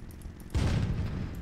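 Tank gun in Sprocket, a modded barrel with an attachment, fires once in a sudden loud blast that rolls off into a rumbling decay over a quiet background.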